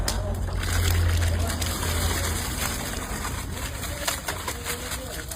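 Soaked rice tipped into a large pot of boiling, salted, oiled water while cooking veg biryani for 200 people: a steady, close sloshing gush over a loud rumbling background with voices faintly present.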